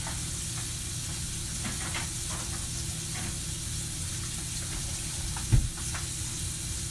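Vegan fish browning in a hot frying pan gives a steady, close sizzle with a soft constant hiss, broken once by a single sharp clack near the end.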